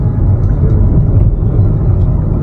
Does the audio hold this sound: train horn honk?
no